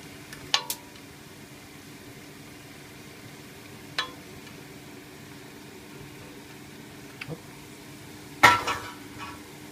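A few sharp metallic clinks of a utensil against a pan mark green and red peppers going in with sautéed onions. A steady, low sizzle runs underneath, and a louder clatter comes near the end.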